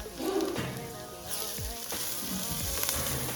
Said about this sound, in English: just make them bloom a little bit by frying them